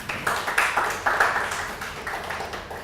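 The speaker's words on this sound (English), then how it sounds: "You can give a round of applause." Audience applause after a talk on the brand story of standup comedy, a short scattered round of clapping that swells in a few waves and then thins out, fairly close.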